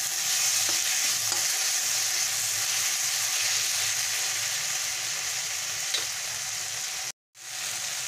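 Chopped tomato frying with already-fried onions for a Tangra fish jhal gives a steady broadband sizzle with light stirring scrapes, close and continuous, cutting out abruptly near the end before the frying noise returns.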